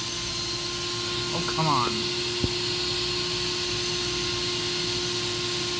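A Silver King 73B2 vacuum cleaner runs through a suction test with a steady, droning whine and hum that never lets up, and a voice briefly speaks over it.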